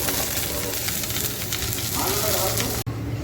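Green chilies fry in hot oil in a home kitchen, giving a dense, loud sizzling hiss that fills the moment before a short break near the end.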